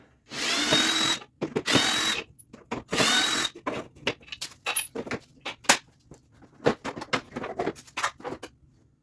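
A power driver whirs in three longer bursts to back out the screws holding the carburetor collar on a Toro snow blower, followed by a quick irregular series of short trigger pulses and light rattles, all close by.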